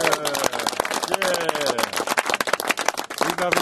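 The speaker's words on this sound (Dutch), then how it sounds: "applaus." Close, dense clapping from a small group celebrating a youth football team's season, brisk irregular claps with voices and a few shouts mixed in.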